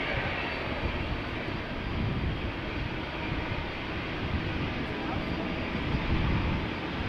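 An American Airlines jet bound for Dallas departs Amsterdam Schiphol with a continuous broad roar that swells slightly and stays heavy throughout.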